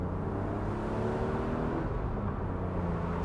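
A BMW Z3 with a 2.8 litre inline six driving in fine weather, a steady low engine drone and road rumble heard from close by, without much change in pace.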